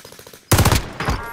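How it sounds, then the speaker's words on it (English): Gunfire in the video game Call of Duty: Modern Warfare comes as a loud, rapid automatic burst of close shots. A softer second volley trails right after. "They're shooting me."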